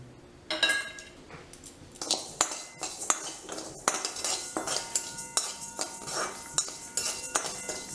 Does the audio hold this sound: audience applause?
no